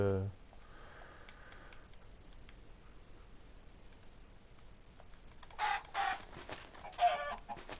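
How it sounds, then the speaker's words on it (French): Chickens in the Minecraft video game give a few soft clucks near the end, under quiet keyboard typing and faint talk. "poulet, voilà, petit poulet"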